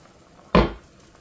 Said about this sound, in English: taking our lid off